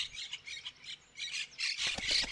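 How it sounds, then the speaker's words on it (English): Monk parakeets squawk harshly from palm trees in Rome, a run of loud, raspy calls in quick succession that build toward a denser, louder burst at the end. "Monk parakeets."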